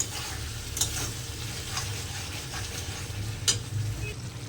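Spices sauté in a pan with a low, steady sizzle, punctuated by a couple of sharp utensil scrapes and taps as they are stirred, close and without talk.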